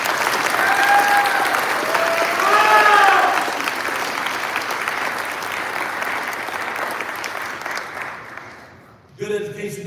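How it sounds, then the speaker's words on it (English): Steady audience applause for faculty and staff at an academy commencement ceremony, loud and continuous for about nine seconds, with a brief dip before a few voices come in at the end. "would you please join me in giving a round of applause to the faculty and staff of this"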